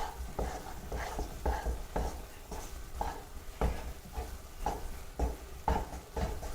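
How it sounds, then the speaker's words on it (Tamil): Almond halwa is stirred patiently in a kadai with a spoon, making steady, rhythmic scraping and slapping strokes against the pan, several per second, close up with no talking. "அவ்வளோ நேரம் நம்ம கொஞ்சம் பொறுமையாக கிளறி ஆகணும்."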